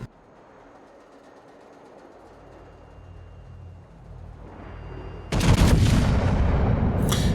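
Naval gunfire in a World of Warships battle with the battleship Montana, starting as a low quiet rumble that builds, then erupting into a loud, sustained booming salvo near the end.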